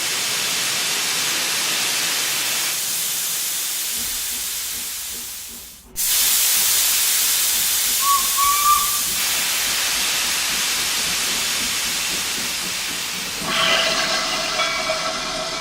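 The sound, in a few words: vintage steam train of the Llangollen railway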